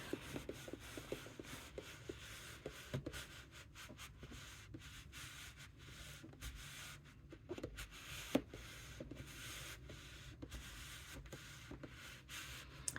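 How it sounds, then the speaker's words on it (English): A brush scrubs a vintage rubber stamp clean, working into its crevices and letters in quick, repeated rubbing strokes with small scratchy ticks, close and fairly quiet, with no voices. "it's probably going to take quite a lot of scrubbing to get all the little crevices and letters out"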